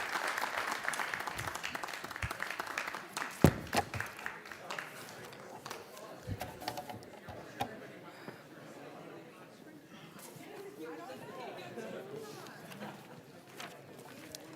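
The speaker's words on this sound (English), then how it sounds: "One more round of applause" An audience applauding at a Rotary district speech competition, sustained clapping from a crowd that thins and softens over time, with a sharp clap standing out and faint chatter underneath.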